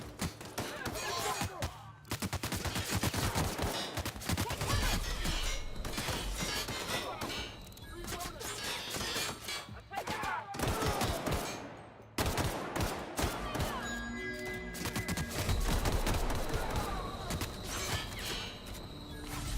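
Enemy gunfire in The Outer Worlds video game: dense, continuous bursts of automatic and single shots with impacts and crashes, loud and close, a voice talking intermittently over the shooting.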